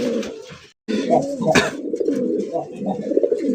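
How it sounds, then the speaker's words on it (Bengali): A red-coloured male pigeon kept in a village coop coos loudly and repeatedly at close range, with deep throaty rolling calls and a short pause between bursts. A person talks over the calls. "যত ডাকবা তত পয়সা পাবা ডাক দেখছেন পুরা পাগলা একটা নর"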